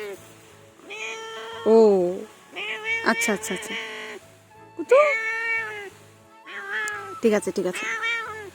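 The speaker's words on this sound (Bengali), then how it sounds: "কি কি ম্যাও ম্যাও, আসো আসো আমার কাছে আসো।" A pet cat meows repeatedly and insistently, several drawn-out calls close to the microphone at home, while someone talks back to it between the meows.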